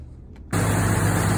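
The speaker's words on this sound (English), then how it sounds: "This 4-liter is running really nice and quiet." A 4-liter engine in a 2000 Jeep Cherokee XJ with new lifters starts humming after a moment of quiet, then idles smoothly and steadily, near and fairly quiet, with no one talking.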